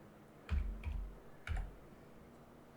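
A few soft, close taps on a computer keyboard in two quick bursts, separated by a short pause. The typing is faint, and no voice talks over it.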